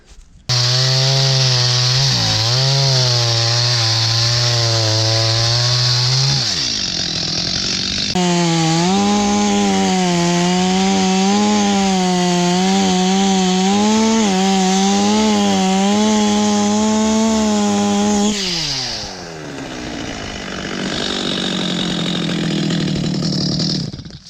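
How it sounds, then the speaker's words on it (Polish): Stihl MS-250 chainsaw felling a narrow alder tree in a field: a loud, close engine revving steadily through the cut, wavering under load, briefly dropping to idle twice before opening up again. "Jeszcze o to jedno małą, wąską olkę zetnę."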